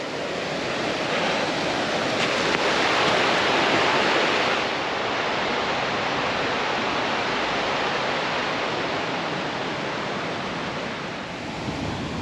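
The River Prosen, a Scottish river, rushes steadily over rocks, a dense continuous roar of flowing water that holds at the same loudness throughout with no voices.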